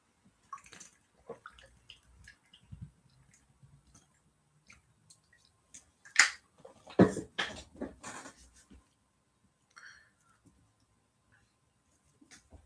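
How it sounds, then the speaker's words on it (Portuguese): Close, quiet gulps and swallows of someone drinking water, with a few soft sips, clinks and a louder cluster of swallowing in the middle. "Deixa eu beber só uma água bem rápida aqui."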